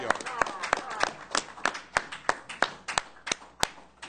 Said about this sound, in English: You got to give him a bigger applause than that.